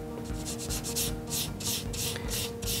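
Soft side of a nail shaper buffer rubbing across a fingernail plate to remove its shine: quick, regular strokes of scratchy rubbing up close, about a dozen passes in a steady rhythm.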